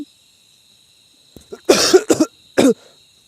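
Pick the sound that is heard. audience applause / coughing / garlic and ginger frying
coughing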